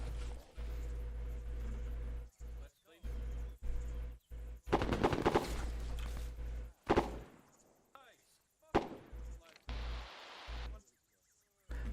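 Machine gun bursts and scattered gunshots crackle in Arma 3 co-op combat on Altis, with rapid rattling volleys and sharp single cracks broken by brief pauses, while players talk over a constant low hum.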